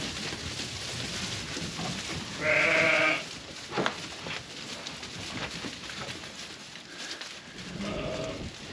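A flock of sheep at a farm in winter, with one clear, loud bleat near the middle followed by a softer, shorter one near the end over steady outdoor background noise.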